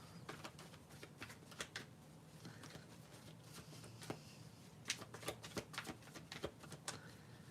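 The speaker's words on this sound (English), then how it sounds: "Give me one moment to shuffle." A deck of tarot cards is shuffled up close, a soft ongoing riffle of quick papery flicks and taps that turn sharper and louder toward the end, with no one speaking.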